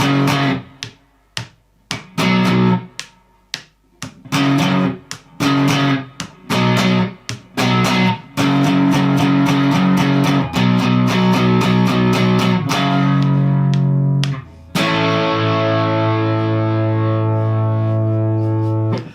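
Distorted electric guitar plays the first chorus of a song, starting with choppy, stop-start strummed power chords that give way to sustained ringing chords, loud and close with no talking.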